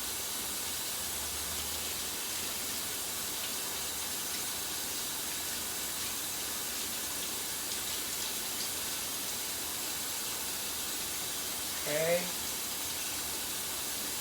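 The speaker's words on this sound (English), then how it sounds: "Let the water just rinse them off." Running tap water hisses steadily into a sink while raw pork chops are rinsed under it, a constant close spray with a brief spoken word near the end.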